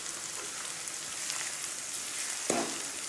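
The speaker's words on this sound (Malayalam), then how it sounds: "ഉള്ളി വെളിച്ചെണ്ണയിലിട്ട് മൂപ്പിക്കാം" Shallots fry in hot coconut oil with a dense, steady crackling sizzle close by, swelling into a brief louder burst near the end.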